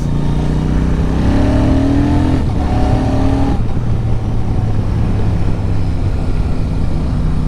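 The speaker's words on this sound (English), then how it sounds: "That gearbox is absolutely fine with clutchless upshifts or downshifts." Royal Enfield Super Meteor 650 engine pulling hard through the gears with clutchless shifts, the pitch rising, breaking at a shift and then settling into a steady, loud drone under wind rush.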